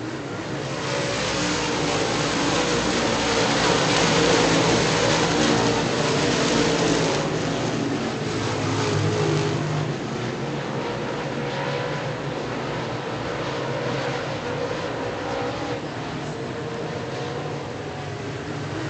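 Late model race cars roar around Virginia Motor Speedway at night, a continuous loud engine drone from the pack that swells and eases slightly over the stretch without pause.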